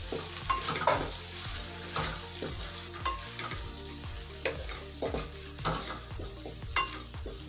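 Masala mixed with tomato ketchup is stirred in a pan over a low flame, giving a soft, continuous sizzle. Spoon scrapes and clinks against the pan come at an irregular rhythm, close and fairly quiet.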